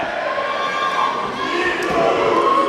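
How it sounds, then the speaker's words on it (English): Wrestling crowd at a CZW match cheering and shouting loudly and continuously, a dense roar of many voices with rising excitement near the end. "And listen to this crowd."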